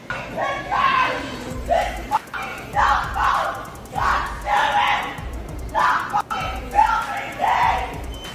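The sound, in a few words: woman screaming at someone to stop filming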